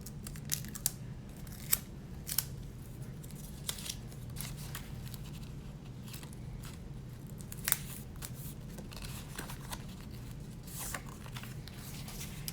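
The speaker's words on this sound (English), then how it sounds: "get another piece of paper, and cut it smaller, and then cut it on a diagonal" Scissors snip through paper while cutting out rocket fins for a school craft lesson, a series of close, crisp cuts spaced irregularly with soft paper rustling between them.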